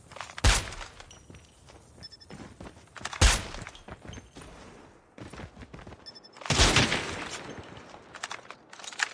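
Sniper gunfire in a video game: three sharp, loud shots spaced a few seconds apart, each with a short echoing tail, over faint background movement and clatter.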